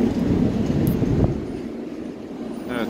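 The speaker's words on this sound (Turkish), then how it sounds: "Saraybosna tramvayı." A Sarajevo tram passing on the street near the Latin Bridge, a loud close rumble of wheels and motor that peaks early and then gradually fades as it rolls away.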